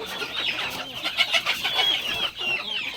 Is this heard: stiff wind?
no